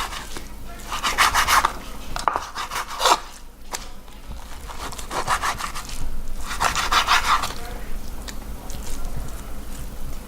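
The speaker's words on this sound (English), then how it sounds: "I'm going to cut it in slices like this" A knife cutting beef steak into strips and cubes on a board, several bursts of rough rubbing strokes separated by short pauses, close and moderately loud.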